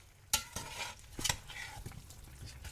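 Chili verde being stirred in a pot, with a spoon scraping and knocking in several quick strokes over a soft sizzle, close and fairly quiet.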